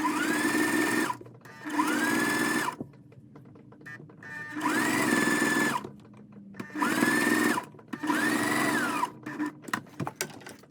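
Home sewing machine stitching a pocket seam on Pokémon-themed shorts, whirring in several separate bursts of one to two seconds each with short quiet pauses and small handling clicks between them, loud and close.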